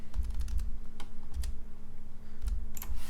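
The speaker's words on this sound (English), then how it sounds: "We can also move these down with our keyboard" Computer keyboard keys pressed in a few short clusters of quick clicks, close and fairly clear, with a steady low hum underneath and no talking.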